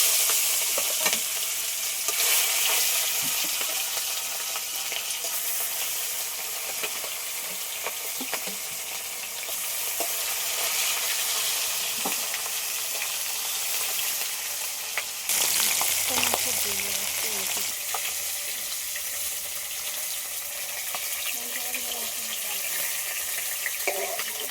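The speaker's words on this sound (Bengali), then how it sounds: "তেল গরম হয়ে গেছে, এবার মাছ ভেজে নেব।" Pieces of saipon fish fry in hot oil in a kitchen, giving a loud, continuous crackling sizzle. Stirring and a clatter interrupt it partway through before the sizzle carries on, with no talking.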